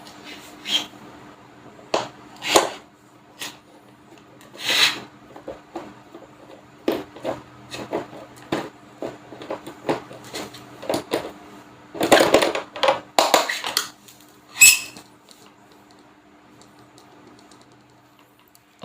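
A box fan's plastic casing is taken apart and its bolts removed, with scattered close clicks, taps and rattles of parts and screws at irregular intervals in a quiet room.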